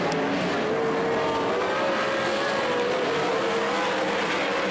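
Sprint cars race on a dirt oval just after the green flag, with a steady, loud engine roar holding a rising and falling pitch throughout and no talk over it.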